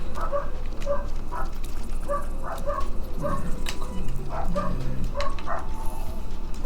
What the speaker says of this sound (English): probably hear Kenny's dog's barking